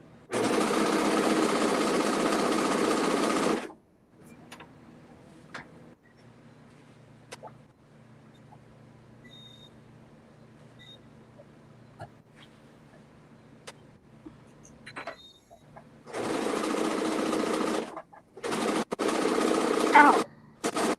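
A four-thread serger stitches fabric for a Made for Mermaids Beau garment in two loud, sustained runs, one at the start and one near the end, with a quiet stretch of faint handling between them.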